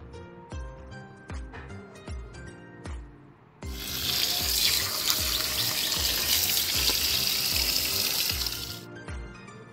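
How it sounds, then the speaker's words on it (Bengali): Water from a tap runs steadily and loudly over banana flower being washed in a sink. The flow starts after a few seconds of music and cuts off near the end. "মোচাটা পেড়ে নিয়েছি, এবার ভালো করে পেঁচিয়ে ধুয়ে নিতে হবে।"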